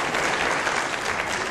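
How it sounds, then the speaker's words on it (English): An audience at a public debate applauds, dense steady clapping from many hands filling the hall at full loudness without a break and with no speech. "By your extended clapping, you're eating up into the next speaker's time."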